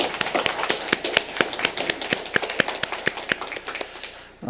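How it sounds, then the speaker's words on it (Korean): A church congregation at a Sunday worship service claps, a roomful of hands with distinct close claps punctuating the steady patter, cutting off abruptly at the end. "우리 하나님께 감사와 영광을 박수 올려드리겠습니다"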